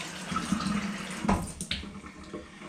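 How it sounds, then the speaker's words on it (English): Tap water running into a container for cooking in a home kitchen, a steady splashing flow with a few clinks and bumps of the vessel, close and moderately quiet. "So just filled this up with some water"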